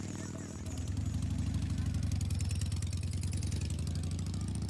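A motorcycle engine runs steadily throughout, a loud, close, continuous idle-like drone with a regular pulsing rhythm that swells slightly after the first half second, with background noise over it.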